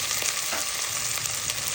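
Ground turkey frying in a hot pan for a creamy pasta dinner, giving a steady close sizzle with soft crackles and occasional stirring scrapes, no voices.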